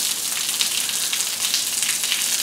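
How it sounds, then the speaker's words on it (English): Rain falls steadily on outdoor pools and concrete, a dense, even hiss that holds at a constant level from start to finish with no voices. "Rain. Rain on these pools."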